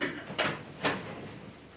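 Bottom drawer of a file cabinet being pulled open indoors, two short scraping slides in quick succession against a quiet room background, no talking.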